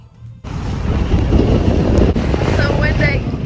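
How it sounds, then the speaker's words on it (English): Strong wind buffets the microphone on the Hawaiian coast, a loud continuous roar that rises suddenly after a brief opening and holds steady, with faint voices underneath. "So windy."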